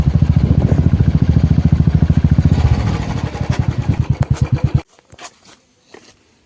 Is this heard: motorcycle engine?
yes